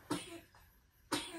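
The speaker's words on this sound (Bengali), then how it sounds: "একটু কাশি হয়েছে," A small child with a mild cough after a fever, two short soft coughs about a second apart, quiet and close, no talking.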